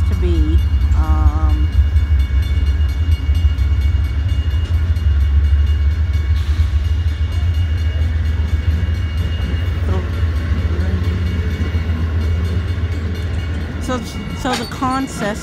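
The Amtrak Vermonter, passenger train 56, rolls through Brattleboro, Vermont, a loud continuous low rumble of wheels and cars near at hand, with short horn blasts at the start and again near the end.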